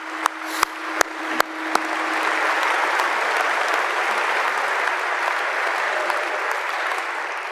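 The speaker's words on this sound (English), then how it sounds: "Let's give them another round of applause." A large audience at a university presidential inauguration applauds the choir and band, a few sharp early claps swelling into a sustained, even wash of clapping that carries steadily to the end with no talk over it.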